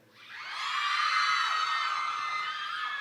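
A crowd bursts into loud, high-pitched screaming and cheering that swells quickly and holds for a few seconds.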